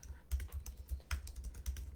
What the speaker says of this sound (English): I'm typing 3 thank yous.